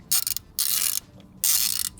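Three bursts of rapid ratchet clicking, close and crisp, as a wrench fits new spark plugs on a Porsche 944 project car, with short pauses between each turn.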